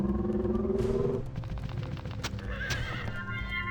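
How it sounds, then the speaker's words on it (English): A horse in the Heroes of Might and Magic II video game neighs loudly in a long whinny, followed by a clatter of hooves and sharp impact-like bursts. "Come here, horsey."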